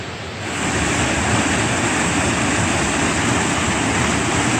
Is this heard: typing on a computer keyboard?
no